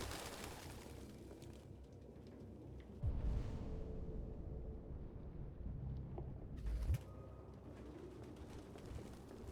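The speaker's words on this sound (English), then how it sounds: "No human could live with all these fucking pigeons." Pigeons coo in an android's apartment in the video game Detroit: Become Human, a low, soft murmur under steady room ambience, with two brief louder bumps partway through.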